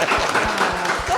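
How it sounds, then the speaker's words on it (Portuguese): Dense applause from a church congregation for a group at a Protestant Sunday school forum, a steady wash of many hands clapping close by with faint voices mixed in. "Posso pedir aplauso para esse grupo lindo?"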